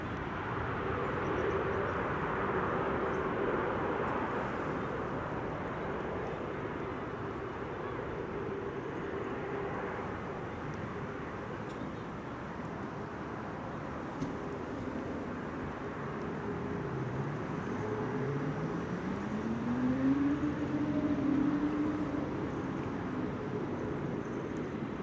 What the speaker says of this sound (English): It's almost certainly taxiing to runway 24 to be taking off from the Kaatbaan.